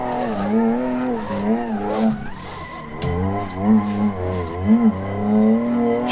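Stock BMW M3 E36 drifting at Buckmore Park in Assetto Corsa using the handbrake, its engine note rising and falling between revs while the tires squeal continuously, loud and close.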